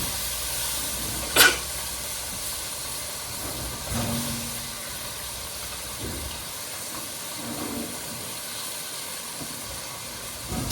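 Mutton pieces dropped into fried masala give a steady hissing sizzle throughout, with a sharp clatter near the start and a few soft knocks of stirring later on.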